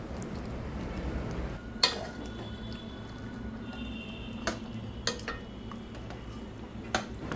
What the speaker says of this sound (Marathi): आपल्याला चिकन व्यवस्थित मिक्स करून घ्यायचं आहे।